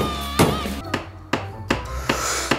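A neighbour hammering while hanging shelves: a series of about seven loud, sharp hammer blows at an irregular pace, close and echoing against a wall.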